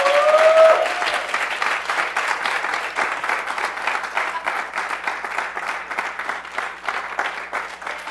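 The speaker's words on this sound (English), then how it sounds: "give her another round of applause" A room full of people applauds after a scientific talk on emperor penguin prey capture, steady dense clapping that starts with a brief voice on top and carries on evenly for several seconds.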